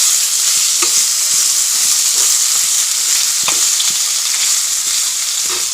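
Small fish curry frying loudly in a wok, a dense, continuous sizzle with occasional stirring scrapes beneath it, close up and with no speech.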